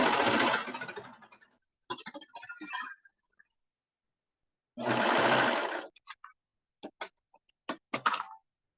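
A sewing machine stitches a welt pocket on a bomber jacket in two loud, sustained bursts of whirring, each followed by scattered short clicks and brief stops with silence between.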